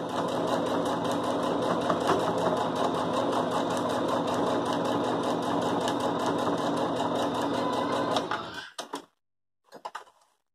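Sewing machine stitching fabric scraps together for crazy patchwork, running loud and steady with a fast rhythmic whir for about eight seconds, then stopping, followed by a few brief clicks and handling sounds.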